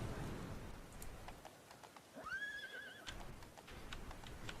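In the video game Total War Seven Kingdoms Game of Thrones mod, a horse neighs loudly in a rising then wavering whinny, with hoofbeats clopping and steady rain pattering throughout.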